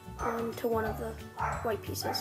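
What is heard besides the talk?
dog barking in the background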